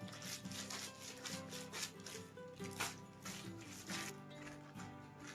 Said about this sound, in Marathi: ते काढून घेतले बघा कॅरी बॅग मध्ये अशा पद्धतीने हे पीठ चांगले मळून घ्यायचे